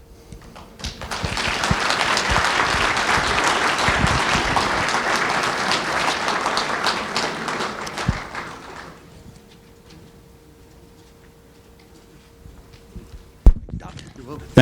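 Audience at a Martin Luther King Jr. Day celebration applauds a speaker with a burst of dense, lively clapping that lasts about eight seconds, then fades to a quiet room with a sharp knock near the end.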